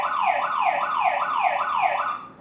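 Staniot home security system alarm siren set off by its SOS button, a loud electronic wail sweeping up and down in steady repeating cycles, about two per second, continuous and alone with no talking.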